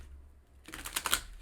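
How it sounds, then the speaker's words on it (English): A deck of tarot cards is shuffled by hand, a quick run of crisp papery riffles and flicks close by, following a brief quiet moment. "I'm just going to shuffle these again in order to get the second card."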